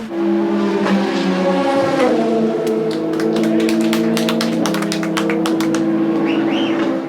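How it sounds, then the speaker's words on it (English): A Porsche hypercar at Sebring passes close and loud in the 1000 Miles endurance race, its engine note holding steady and shifting pitch, with rapid clicks overhead and no talk. "The Porsche goes through, Kevin Esch gets the place."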